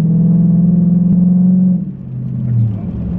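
Dodge Challenger WideBody rolling along slowly, a steady deep engine rumble close by that eases off midway, then swells a little again.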